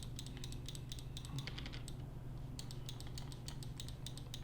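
Quick, light clicking key presses on a computer keyboard while erasing in Photoshop, a run of taps in bursts with a brief pause in the middle, close and fairly soft over a low steady hum.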